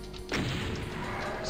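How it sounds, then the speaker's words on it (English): A rocket explosion in Doom, a sudden loud blast that breaks in partway through and trails off into a sustained rumbling roar. "One rocket to rule them all"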